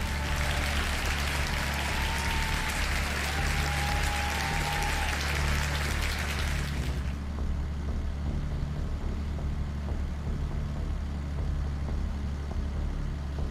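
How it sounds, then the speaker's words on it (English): Applause rings out for about seven seconds during a Farming Simulator 22 live stream, sitting over a steady low game engine hum that keeps going alone after the clapping stops. "Big old round of applause to Frankie."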